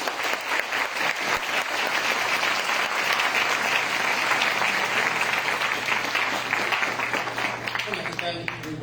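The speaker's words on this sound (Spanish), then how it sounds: "Recibamos con un fuerte aplauso" An audience in a lecture setting claps for a guest speaker, sustained dense applause filling the room at an even level before it thins out toward the end.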